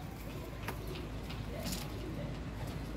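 Pigeons of the Mian Nazir line, kept by a fancier, coo softly and intermittently against a steady low background hum, with no talking.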